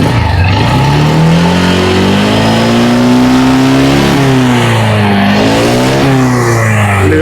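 The small engine of an X-Wolf 300 ATV revs loudly and continuously up close, its pitch rising and falling as the throttle is worked.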